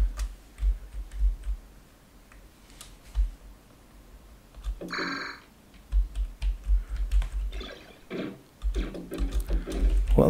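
Computer keyboard keys, the shift keys among them, are pressed in quick irregular clusters of clicks and taps, with quieter pauses between and denser bursts toward the end.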